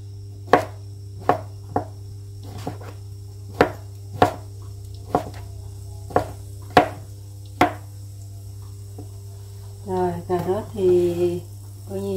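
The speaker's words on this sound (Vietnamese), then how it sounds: "Rồi con cắt hết nấm. Nấm thì mình cắt dày hơn một chút." A knife chops mushrooms into thick slices on a board for celery stir-fried noodles: about nine crisp, evenly spaced cuts, close and clear, followed by a person speaking at the end.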